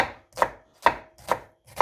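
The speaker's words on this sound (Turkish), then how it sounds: "Soğanlarımızı doğrayalım." Four sharp knife chops through onions on a cutting board, evenly spaced about half a second apart, close and clear with no talking, outdoors in a village.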